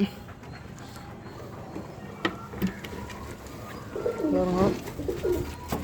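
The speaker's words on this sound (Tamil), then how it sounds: "இதுவும் ஓவர் அடி புறா தான்" Racing pigeons coo in a loft, soft throaty calls rising near the end amid faint shuffling and background noise.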